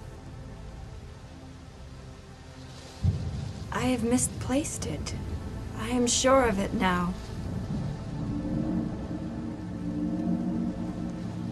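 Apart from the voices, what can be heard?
rain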